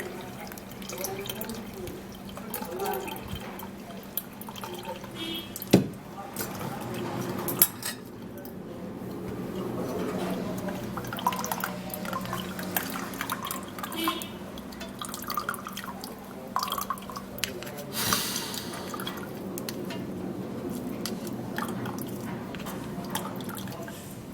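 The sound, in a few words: straining a herbal drink, liquid dripping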